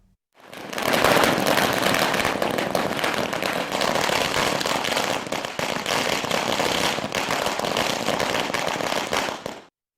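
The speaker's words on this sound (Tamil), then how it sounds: "பல்வேறு தரப்பினரும் பட்டாசுகள் வெடித்தும் இனிப்புகள் வழங்கியும் கொண்டாடியதோடு" Firecrackers burst in a dense, continuous crackling barrage at a town celebration, loud and unbroken for about nine seconds before stopping abruptly, with no speech.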